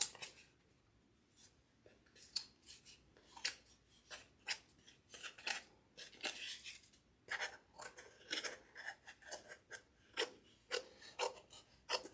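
Scissors trim excess fabric on a pumpkin witch wreath, giving a long run of quiet, rapid, close snips and crisp fabric rustles with an irregular rhythm and no talk.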